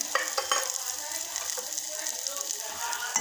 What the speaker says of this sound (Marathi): हळदी पावडर टाकल्यानंतर हे मिक्स करून घेऊ